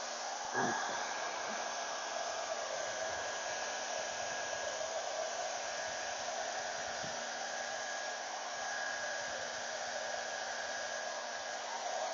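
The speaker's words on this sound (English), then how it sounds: "Now, I'm gonna hit this with a hairdryer." A hair dryer blowing steadily and loudly close by, a continuous whooshing roar with a constant whine that never lets up.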